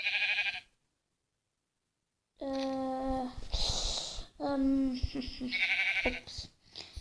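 Sheep bleating on a farm, several wavering cries after a short silence, close and fairly loud, one overlapping another.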